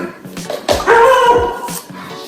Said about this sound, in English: That's our dog Reza.